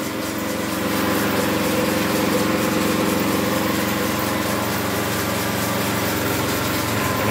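A Suzuki Grand Vitara 2000cc engine idling steadily at close range, a constant even hum with no voices over it.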